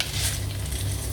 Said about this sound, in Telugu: ప్యాన్ పెట్టుకొని లైట్గా ఆయిల్ వేసుకొని తాలింపు దినుసులు వేసుకొని